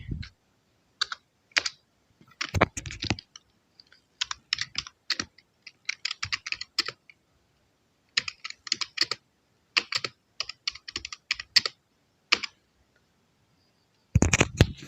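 Computer keyboard keys tapped in quick irregular bursts with short pauses between, close and clear, while HTML table code is typed.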